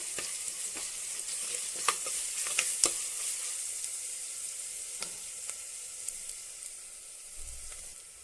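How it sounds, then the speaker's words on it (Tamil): Crushed garlic sautés in hot oil for a fish head kulambu, giving a steady, close sizzle broken by scattered sharp pops and crackles, with a brief stirring scrape near the end. "சேர்த்துட்டு நல்லா வதக்கி விட்டுடலாம் இந்த எண்ணெயிலேயே"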